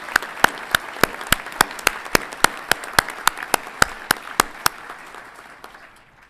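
Sharp, evenly spaced claps at a veterinary college commencement ceremony ring out about three per second over a soft background wash, thinning and fading at the end.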